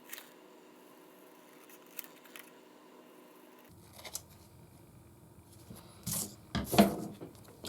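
Scissors cut out a paper label for a Fallout 3 Mentats prop, with soft rubbing and snipping handled close by and a few sharper snips and rustles near the end.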